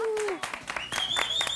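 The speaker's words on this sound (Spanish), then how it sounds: "Fuerte el aplauso para recibirla." A game show audience applauds to welcome a contestant: a brief, steady wash of crowd clapping under loud studio music with rising and falling tones.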